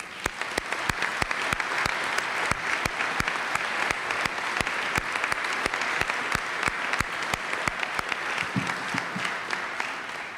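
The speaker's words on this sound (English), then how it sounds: "I want to give a round of applause to his family" A large convention audience gives sustained applause for a family, a dense, steady wash of many clapping hands that runs on evenly for about ten seconds.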